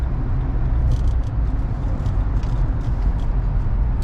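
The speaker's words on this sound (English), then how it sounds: "I like how the traffic is very clear in the tunnel." Steady, loud traffic roar inside a road tunnel at night under bright lights, a dense continuous rumble of passing cars with rattling undertones and no pauses.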